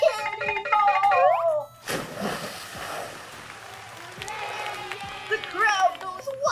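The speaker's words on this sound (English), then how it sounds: "The crowd goes wild." A cartoon crowd at a cooking show erupts in cheering and applause after a cannonball, a sudden noisy burst that fades into softer clapping, with character voices before and after.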